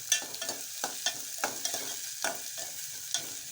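Okra bhindi palya is stirred in hot oil in a pan, with onion added. A steady soft sizzle runs throughout, broken by regular scraping strokes of the spatula, close and clear.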